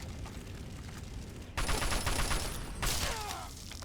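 Rifle fire against ants in Fallout: New Vegas comes as a dense burst of rapid gunshots over busy game background noise, with one sudden louder volley partway through.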